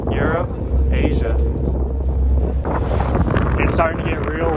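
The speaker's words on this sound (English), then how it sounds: "It's starting to get real windy out here." Strong wind on the Bosporus strait out on the open water, roaring and buffeting the microphone loudly and continuously while people talk underneath it.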